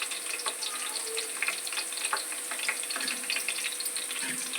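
Onions frying in a pan give off a steady, close sizzle with dense crackling and popping throughout, and no talk over it.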